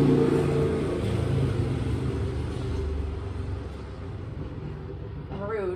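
A motorcycle rumbles past loudly and close, its engine noise swelling and gradually receding, with a rising whine toward the end.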